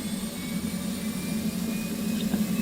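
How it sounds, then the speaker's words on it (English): F/A-18 Hornet auxiliary power unit in the DCS flight simulator, a steady, even turbine whine and low hum running continuously at a constant level with no talk over it. "go right over here to the auxiliary power unit, turn that on"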